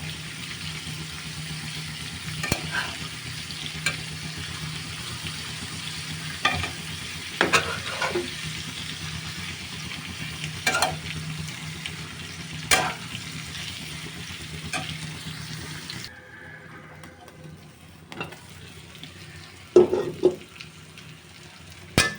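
Eggplant slices fry in a pan over low heat with a soft, steady sizzle, broken by occasional sharp clacks of turning and flipping. The hiss drops lower near the end before a few final knocks.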